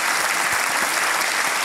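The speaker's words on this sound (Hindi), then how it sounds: "तालियों के साथ इनका हम स्वागत करते हैं" A studio audience on a televised quiz game show breaks into brief, full applause, a loud and even burst of many clapping hands.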